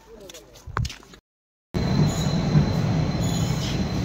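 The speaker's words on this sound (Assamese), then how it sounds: "এইফালে মানে ট্ৰেইনখন আহি আছে" A train pulls into a station platform in Guwahati, its steady rumble and rolling wheel noise filling the second half loudly and evenly after a brief silence, with people talking before the train noise takes over.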